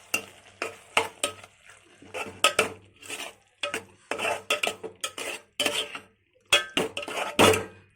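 Tomatoes tipped into ridge gourd frying in a pan and stirred, with repeated scraping and clinking of a utensil against the metal pan in short irregular bursts over a soft sizzle.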